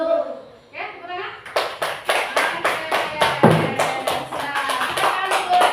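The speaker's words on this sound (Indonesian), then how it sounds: "Oke, tepuk tangan." Children in a classroom clap their hands together after a short spoken exchange, the claps coming as loud, fairly regular rhythmic beats, close by and in near unison, with some voices audible underneath.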